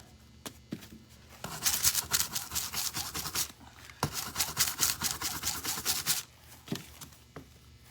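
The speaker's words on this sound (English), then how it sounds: "I think I want to rub a little more right there." Continuous scratchy rubbing of decorative foil film being burnished onto a drawer pull, with rhythmic strokes, close and fairly quiet, and a few sharp taps at the start and middle.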